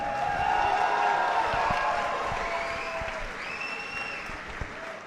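Crowd at a Sri Lankan KFL kickboxing fight night featuring fighters from India and Pakistan bursts into loud, sustained applause with cheering and whistles, the clapping gradually thinning toward the end.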